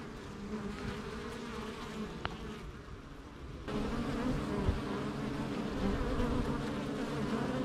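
Honeybees buzz steadily at an autumn hive entrance as foragers bring in ivy pollen, a dense close swarm hum that grows louder and fuller partway through.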